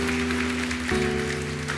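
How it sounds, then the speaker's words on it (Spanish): A church congregation claps loudly for God during a Spanish-language sermon. The dense, continuous clapping sits over sustained musical tones from instruments playing underneath. "Da un aplauso fuerte a nuestro Dios, porque ese es nuestro Dios."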